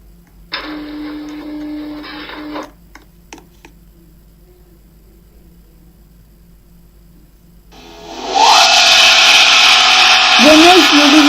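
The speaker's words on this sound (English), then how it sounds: "It is not actually hydraulic, but it sounds like hydraulic motor." Elevator lift motor at a lift demo center, a loud steady whirring drive that starts abruptly after some quiet clicks and short mechanical whines, sounding much like a hydraulic motor.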